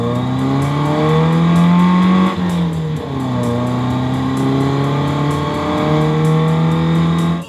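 Big pink Plymouth with push-button automatic driving on a chip seal road, a loud, steady engine drone inside the cabin that rises and dips as it shifts and accelerates, with tire rumble underneath.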